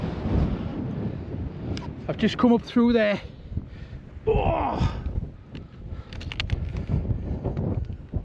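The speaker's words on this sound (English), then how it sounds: "it is, I mean, well windy" Strong wind buffets the microphone in heavy gusts on a hilltop in the Lake District while someone speaks, with a brief exclamation partway through.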